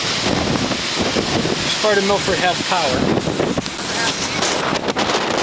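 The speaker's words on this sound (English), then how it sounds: "You can see it's still pretty windy." Strong wind roars and buffets the microphone in Milford, Connecticut, in the aftermath of Tropical Storm Isaias. The gusting noise stays loud and continuous while someone talks over it.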